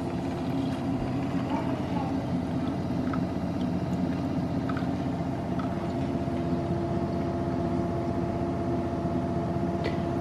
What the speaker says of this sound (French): le bruit que vous entendez c'est le air fryer derrière